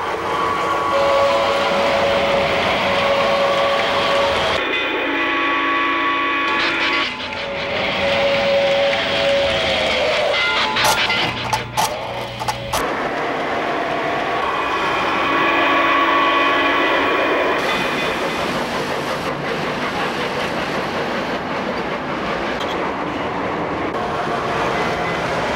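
Lionel toy trains run on a 1990s showroom layout with a steady, loud rumble of wheels on track. Whistle or horn tones sound now and then, and there is a brief metallic clatter midway.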